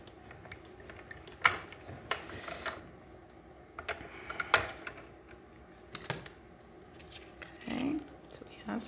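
A card is cranked through a hand-cranked machine on a wobbly table: quiet, irregular clicks, knocks and rattles in short bursts, with a faint voice in the background.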